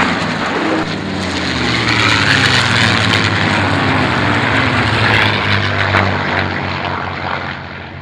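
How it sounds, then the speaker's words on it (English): P-51 Mustang piston-engine fighters making a pass at an airshow, a loud propeller drone rising and falling in pitch as they sweep overhead and away. "the Mustangs will be doing one more pass over you for you to go"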